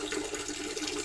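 Water from the supply line flows steadily into a reverse osmosis purifier, making a continuous close rushing hiss with no pauses.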